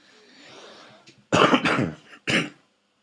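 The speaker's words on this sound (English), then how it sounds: "sorry for coughing" Several sharp, loud coughs from one nearby person, a short burst followed by a second separate cough, after a quiet stretch of faint room noise.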